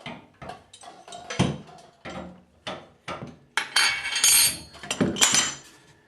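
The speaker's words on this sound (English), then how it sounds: "I use an open end wrench to loosen the nut" Metal wrenches clank and scrape against the fittings of a household water valve as a nut is loosened, a string of sharp, close clinks and knocks that grows busier and brighter toward the end.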